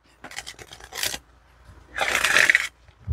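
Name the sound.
shuffling oracle cards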